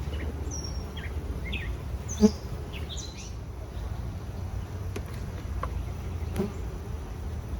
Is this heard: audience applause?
no